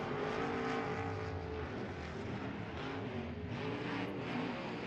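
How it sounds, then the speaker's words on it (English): Late model race cars roar at full throttle at Southern Oregon Speedway, a loud continuous engine howl at a distance with no talking. "Nothing quite like that sound of the CD Architects late models when they stand on that throttle"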